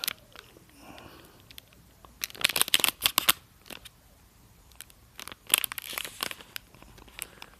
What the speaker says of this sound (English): Just lift this flap up here.